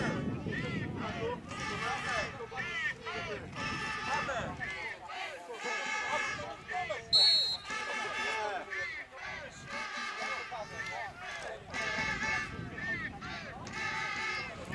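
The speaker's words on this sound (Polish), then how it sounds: "I jak słyszymy, także i kibice odzywają się" Crowd of fans in the stands at a PFL American football play-off semi-final, Wilki Łódzkie against Angels Toruń, a broad continuous murmur with bursts of shouting and cheering rising and falling across the whole stretch, with a brief sharp whistle-like tone midway.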